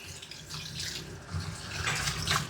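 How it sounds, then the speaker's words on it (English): Water from a tap or sprayer runs over a coton de tulear dog during a rinse after a matted coat is scissored, a close, steady gushing that swells louder halfway through, no talking. "Give her a little bit of a rinse here."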